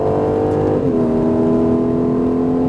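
Aston Martin Vantage accelerating on a track: a loud, close, sustained engine drone whose pitch steps up sharply midway through, as with a gear change, and then holds steady and strong.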